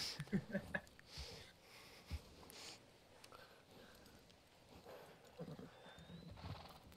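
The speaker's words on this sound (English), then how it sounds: "I got on the wrong horse." In the WildRP video game, a horse gives a short whinny near the start, followed by soft, scattered hoof clops and rustling. The whole scene is faint and quiet.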